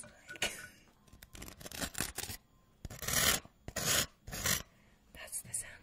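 Vegemite being eaten or spread close to the mic, ASMR-style, in soft raspy scraping and wet mouth bursts that come in uneven clusters with short quiet gaps.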